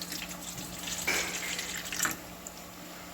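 Water poured into a cooking pot while a soy sauce and vinegar mixture is prepared for a Philippine dish, a short close splashing stream with no talk.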